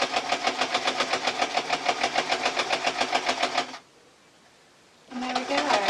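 A basic modern sewing machine runs a French seam through thick layers of cloth, its fast steady needle chatter going for nearly four seconds, stopping briefly, then starting again close and loud.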